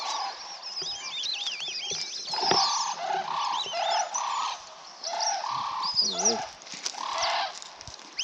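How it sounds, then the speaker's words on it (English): Many birds call across a small lagoon in Cape York, Australia, with overlapping chirps, warbling whistles and repeated short hoots from several directions, moderately loud and continuous, with no talking. "There's this heaps of amazing bird life out here"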